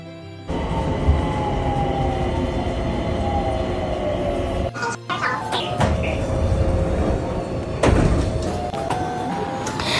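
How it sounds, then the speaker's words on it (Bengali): Airport shuttle metro train ride in the USA: a steady loud rumble of the moving carriage with a rising whine, a brief dip mid-ride and clunks and rattles, no talk. "আমরা চলে যাই একটা মেট্রো স্টেশনে, যেখান থেকে আমরা এই শাটল ট্রেনে করে চলে যাব আমাদের পরবর্তী গন্তব্যে"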